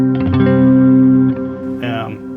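Clean, unaffected electric guitar picked through an ambient pedalboard, with a few bright notes and a ringing chord that sustains and then fades, played alone at close range.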